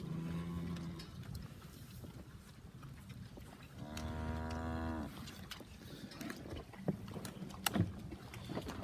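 Weaning calves bawl for their mothers, one loud drawn-out harmonic moo standing out mid-clip among fainter lowing and outdoor rumble around the pen.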